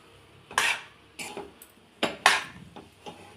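A spoon scrapes and knocks around a pan while rusk halwa is stirred, giving several loud, separate clattering strokes with short pauses between them, close up and with no voices.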